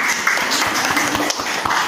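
A classroom audience claps for the first group's presentation, a short burst of scattered, moderately loud hand claps filling the room without talk.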